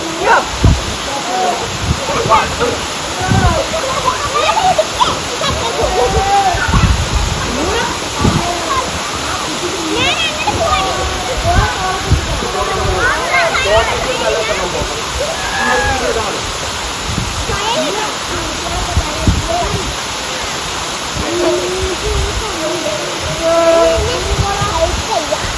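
A waterfall at Oruvil near Valanchery in Malappuram, swollen in the rainy season, rushes in a steady, loud broadband roar for the whole stretch while people talk nearby over the water.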